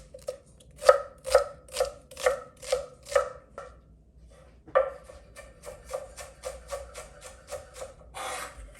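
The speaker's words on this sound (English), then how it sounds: "make sure to chop nice and thin the shallot and the garlic" Shallot sliced thinly with a knife on a cutting board, steady rhythmic chops close by, slower and heavier at first, then quicker and lighter, with no speech.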